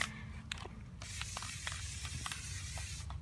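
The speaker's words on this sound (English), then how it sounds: "this spray's all messed up. The head on this is messed up, but it drizzles real cool" A faulty spray can with a damaged nozzle head sputters copper paint in uneven bursts, a steady hiss broken by several sharp spits and crackles, close and fairly loud, with no talking.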